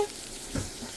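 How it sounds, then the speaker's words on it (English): Faint, steady sizzling of food frying in a pan, a soft continuous crackle with a slight swell midway, no voices. "As you can see, sizzling."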